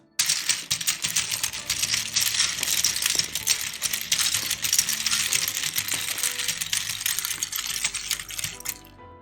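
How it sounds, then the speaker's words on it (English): Rapid typing on a Jane CE mechanical keyboard with keycaps freshly installed, a dense continuous clatter of bright key clicks lasting several seconds, close and fairly loud with no talking. "And now the typing test."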